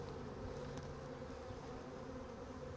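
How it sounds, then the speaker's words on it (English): Honey bees buzz steadily around hive frames while a beekeeper works a hive, a dense, continuous drone close by with no speech. "you may have to smoke down there to get bees out of the way"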